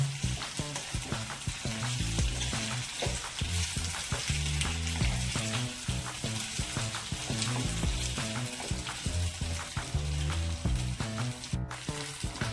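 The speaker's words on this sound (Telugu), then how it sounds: "చూడండి చికెన్ అంతా చక్కగా వేగిపోయింది మంచి కలర్ వచ్చింది కదా" Chicken fries with onion paste in a pan, giving a continuous soft sizzle with regular scraping and clattering of a spoon as the pieces are turned, close and steady without voices.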